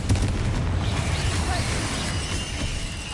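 Booming blasts of the Confringo fire spell go off in Hogwarts Legacy, a dense, loud rumble of explosive bursts running through the whole moment with no clear gaps.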